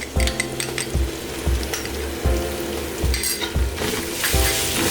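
A spoon stirs ginger-garlic paste, whole spices and browned onion in a frying pan for veg biryani, rhythmic scraping strokes and clinks of metal against the pan over a constant sizzle.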